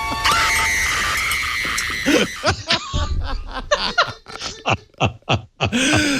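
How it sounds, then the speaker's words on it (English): A shrill, piercing scream from the horror film Psycho rings out at the start, followed by gasps, snickers and choppy laughter from people nearby. "when you heard the scream"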